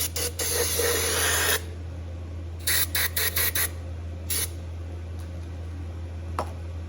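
Cleaner sprays in sharp hissing bursts into a Chinese diesel heater: one long blast, then a quick run of short spurts and a final burst, close up over a steady low hum.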